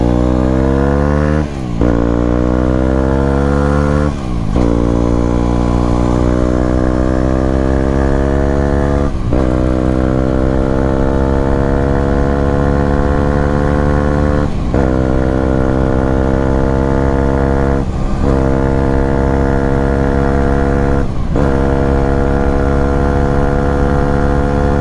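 A loud Aprilia SX 125 motorcycle engine repeatedly revs and drops back, producing a series of rising, buzzy wails with brief gaps between them. It is close and dominant, with no talking.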